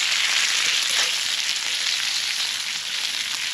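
Fatty bacon sizzles and crackles loudly in a small squirrel-brand camp cooker, a dense, steady hiss of frying grease heard up close without any talking.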